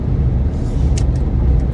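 A car rolls along the road with a steady low engine and tyre rumble from inside the cabin, joined by a couple of brief hissy bursts.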